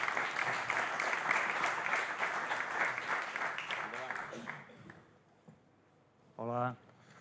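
An audience claps at a Barcelona history lecture on cycling. The applause fades and dies away after several seconds, and then a voice speaks briefly.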